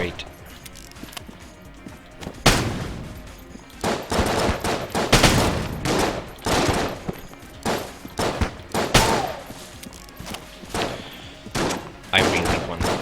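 Repeated grenade blasts and gunfire in the game Enter the Gungeon, a dense run of loud broadband bursts in quick irregular succession, with someone talking over them at times.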